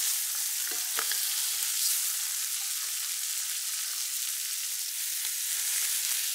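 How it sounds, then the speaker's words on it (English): Pork tenderloin sears in a hot pan, giving a steady, even sizzle and hiss that holds at a constant level throughout with only faint occasional ticks, and no voices. "Once you add the pork, don't touch it too much or you will bring the temperature of the pan down, affecting how well the meat caramelizes"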